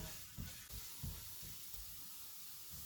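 Chopped garlic fries in hot oil over a low flame, a close, continuous sizzle with soft rhythmic scrapes of stirring repeating about twice a second.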